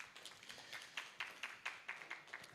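Audience applause after profound answers at a live event: a quiet, sparse patter of a few hands clapping, with irregular claps spaced through the clip, faint and distant.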